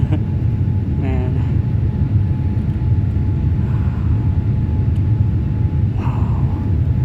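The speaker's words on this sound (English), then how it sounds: "My first takeoff from my home base on a wide body, and that to a Dreamliner." Air India Boeing 787 Dreamliner taking off from Lucknow, heard inside the cabin as a loud steady low engine rumble throughout, with brief faint voices over it.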